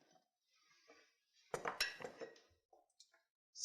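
A plate is lifted and set down on a kitchen counter during carpaccio preparation, giving a few quiet, sharp clinks and scrapes of china, close and faint amid near silence.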